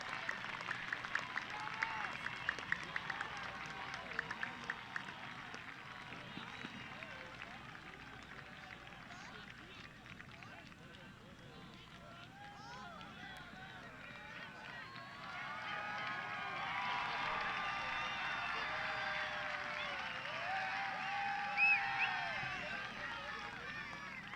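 Distant crowd cheering and applauding at a youth soccer match after a US goal against Brazil, faint and broad, swelling louder in the second half under a commentator's voice.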